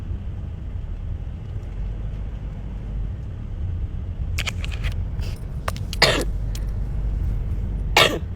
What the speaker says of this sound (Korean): 자꾸 기침해서 죄송합니다